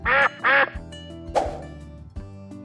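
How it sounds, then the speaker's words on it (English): A duck gives two loud, nasal quacks in quick succession, followed by softer background clatter and fading tones. "Ducks go quack, quack."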